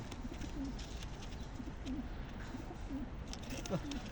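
Soft, repeated pigeon coos at an easy rhythm, moderately close, over a low background hum with faint chirps.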